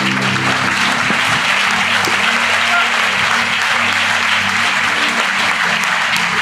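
Sustained audience applause, dense and even clapping from a crowd, loud and continuous throughout with no talk over it.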